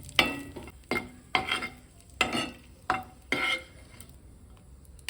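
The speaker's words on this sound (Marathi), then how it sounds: "खजूर आणि मनुके हे थोडं भाजून घेते" Dates and raisins are dry roasted in a pan, heard as about six distinct, evenly spaced scraping stir strokes, fairly close and quiet between strokes.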